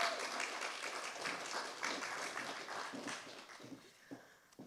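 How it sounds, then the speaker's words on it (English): Audience applause at a corporate showcase event, a soft wash of many hands clapping steadily at some distance, thinning out toward the end. "So big round of applause for Simran and her mentor,"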